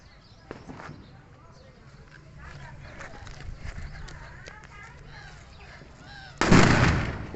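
A string of small Diwali/New Year firecrackers pops in quick irregular bursts, followed by a louder, longer crackling blast near the end.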